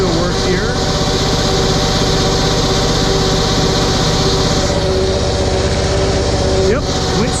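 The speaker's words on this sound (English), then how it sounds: "Yep, winch still works." Vehicle-mounted winch running steadily under a constant engine drone, a loud continuous whine and hum with no breaks, close by.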